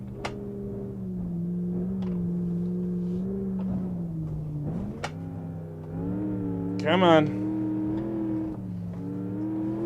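The struggling, overheating engine of a Gavril H-25 truck in BeamNG.drive drones and revs unevenly, its pitch sagging and climbing again, while a voice briefly speaks over it.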